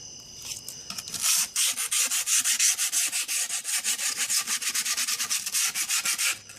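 A scrap piece of skateboard grip tape rubs back and forth along the board's edge in about thirty quick, even strokes, a close, rasping, sandpaper-like scrape with no voices.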